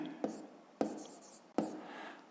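Pen strokes writing out a fifth-grade math answer by hand, three sharp scratchy marks spaced about a second apart, close and quiet.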